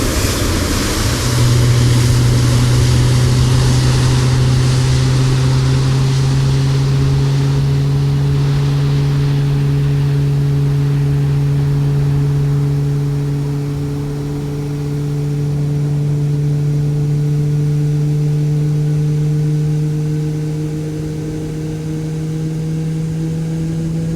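A Boeing 737 Max jet engine in the iFly MSFS flight simulator game spools up from start, a loud rising whine with steady tonal hums building over a continuous roaring rush, alone and sustained.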